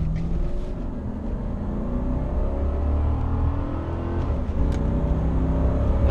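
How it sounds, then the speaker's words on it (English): A car engine pulls hard at full kick-down, its drone rising in pitch, dropping at a gear change, then climbing again. The sound is loud, close and steady from inside the car. "So I'm gonna give it full kick down."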